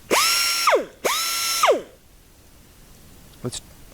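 A Chief 1/4 inch air angle grinder revs up twice in short bursts, each a loud high whine about half a second long that winds down as it is released, followed by near quiet and a faint click.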